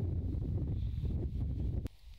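Wind on an outdoor golf course during a charity golf day, a steady, loud rushing buffet across the microphone that drops away abruptly near the end, with no talk.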